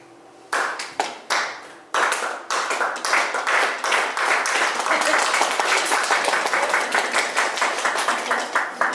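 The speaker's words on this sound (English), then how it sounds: "we can do this one a bit more fast and furiously. So if you can clap this one." An audience at a magic lantern show claps quickly in unison, a few scattered claps first, then a dense, loud, fast run of rhythmic clapping that continues to the end.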